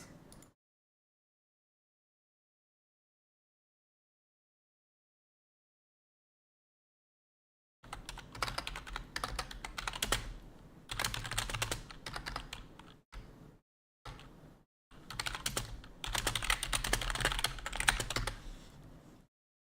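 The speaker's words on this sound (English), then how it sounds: "Yeah, I type very fast." Fast typing on a computer keyboard, quick dense bursts of clicking keys close up, broken by short pauses after an opening stretch of near silence.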